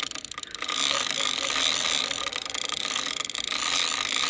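A fishing reel's drag clicks and whirs as a big sturgeon pulls line against it, a continuous close ratcheting buzz that surges and eases over a few seconds.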